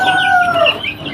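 Three-week-old AKA and Joper chicks give a loud, close chorus of high peeping calls, overlapping chirps that rise and fall over about a second.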